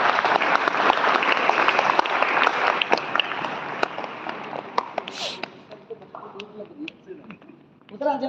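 A crowd at Pratham International School in Rewari breaks into loud, dense applause that holds strong for several seconds, then thins into scattered claps and fades toward the end.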